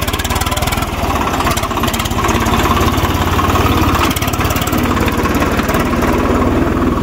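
A Swaraj tractor engine runs steadily and loudly at a close range, a constant low rumbling drone with a rapid vibrating beat that never lets up, with no talking over it.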